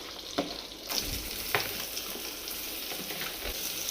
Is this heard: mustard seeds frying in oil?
yes